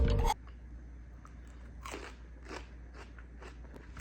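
Celery is crunched and chewed close to the ear, a series of crisp snapping bites spaced about half a second apart, after a brief loud bump at the start.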